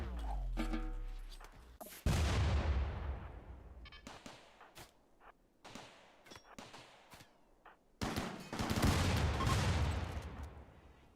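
Rapid bursts of turret gunfire in the colony-building game RimWorld, loud clattering volleys at the start and again near the end, with scattered single shots and thuds between, no talk.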